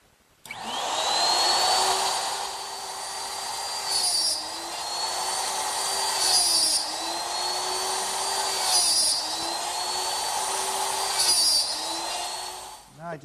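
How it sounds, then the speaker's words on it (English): A router cuts half-inch blind dovetail pins in pine boards held in a dovetail jig, giving a loud, sustained high whine, with the motor pitch dipping and rising in several short passes over about thirteen seconds before spinning down. "just take the side pieces and slide them in and cut the pins with the router"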